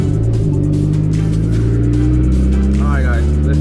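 A car pulls away for a test drive after installation of an N2MB WOT Box, its engine droning and revving steadily up close while a person talks over the sustained rumble.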